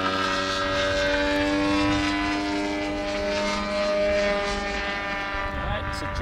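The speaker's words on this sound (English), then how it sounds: "So let's fire up this turbine for the first time and see how it does." A Winwin 80 model jet turbine on a test table, heard as a continuous close engine whine with layered steady tones and a broad rushing roar throughout.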